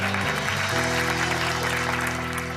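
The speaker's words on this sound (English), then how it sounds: "Let's give her a round of applause." Applause for a trainee at a flight attendant school, a steady broadband patter of clapping lasting the whole moment, with some low hum and faint voices underneath.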